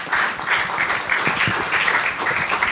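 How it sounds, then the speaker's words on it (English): Audience clapping for a team advancing from a Goa heritage quiz semi-final, a sustained, even round of applause from many people filling the whole stretch at moderate loudness. "Please clap for them."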